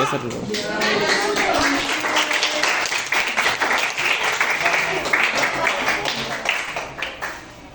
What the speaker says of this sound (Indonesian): Berikan tepuk yang gemuruh untuk kelompok